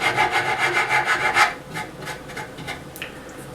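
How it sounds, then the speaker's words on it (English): Steady rhythmic rasping strokes of sandpaper on a sanding stick rubbing along a chamfered mahogany edge, close up, fast back-and-forth for a second and a half, then slower, softer passes. "Using a little sanding stick with some sandpaper glued to it."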